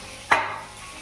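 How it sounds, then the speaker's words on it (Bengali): Fish frying on a flat pan, a single brief sizzling burst that swells and fades over a low steady hiss, close and alone. "আর ওই জায়গার মধ্যে মাছ ভাজা হচ্ছে, মাছ ভাজা হচ্ছে চাটুকরা।"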